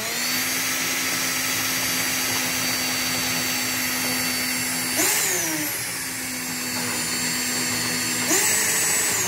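A vacuum runs steadily and loud, sucking debris out of a gasoline can, with two brief pitch shifts around five and eight seconds as the nozzle moves and the suction load changes.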